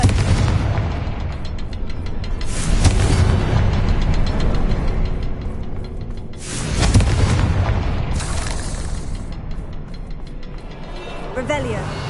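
Heavy blasts from a Confringo blasting spell in a video game, several deep booming explosions rumbling one after another with crackling debris and lingering roar between them, loud and close.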